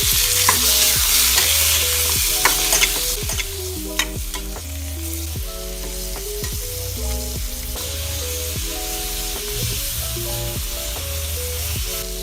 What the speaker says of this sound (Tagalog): Magpainit lang ng mantika. I-sear lang ng bahagya ang ating pork ribs.